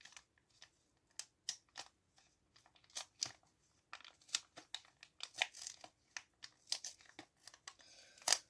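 A foil pack of Pokémon trading cards is torn and crinkled open up close, giving sporadic sharp crackles and rips separated by quiet pauses, growing busier toward the end.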